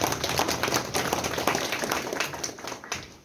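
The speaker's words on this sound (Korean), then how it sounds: "박수 부탁드리겠습니다." Applause from a seated audience at an indoor agricultural lecture on soil management and fertilizer, a brief burst of clapping that fades toward the end.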